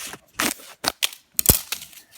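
A few separate crisp snips and rustles of scissors cutting into a yeast package in a kitchen, close and fairly quiet, with short gaps between the cuts.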